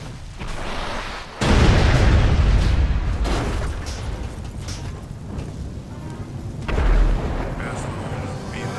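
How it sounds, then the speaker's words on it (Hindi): A car blows up in the video game GTA: a sudden heavy blast followed by rumbling debris and a second booming burst, all loud and close. "लेकिन एंड्रयू की कार को ब्लास्ट किसने किया?"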